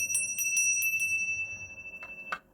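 A hand bell rung in several quick bright strikes, then a couple of fainter final rings that fade out, close and clear with no talk.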